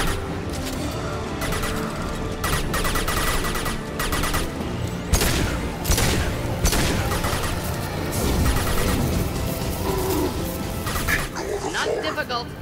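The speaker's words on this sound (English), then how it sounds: "Hostile fire." Dense firefight in Mass Effect 2 on Insanity difficulty, continuous loud gunshots, impacts and crashes layered with sharp transients, with squad voices calling out over the battle.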